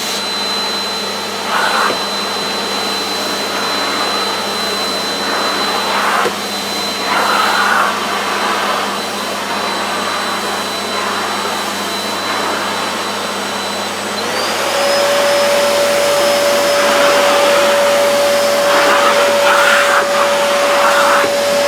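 Rowenta Tonixo cylinder vacuum cleaner running at full power over a synthetic rug, a loud steady whine and airflow roar that shifts pitch partway through as the load changes, continuous and close, with no voices.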